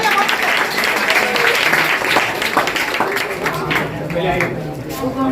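Loud, sustained applause from a crowd honouring prize winners at a general knowledge competition, steady clapping throughout with a voice faintly underneath.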